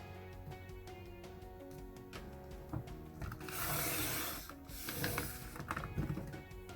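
A paper trimmer cuts card stock, with ratcheting clicks and soft rubbing as the paper is positioned, then a brief swishing slide of the blade, all quiet and close.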